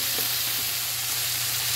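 Vegetables sautéing in a pan with anchovies, tomato, onion and garlic, a steady close hiss of frying oil running unbroken with no voices.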